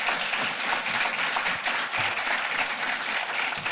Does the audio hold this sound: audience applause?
yes